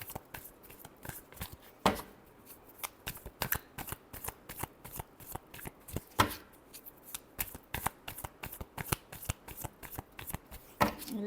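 Tarot cards shuffled by hand in a steady riffling patter of rapid crisp flicks, with a few louder snaps where the deck is squared, close and alone with no talk.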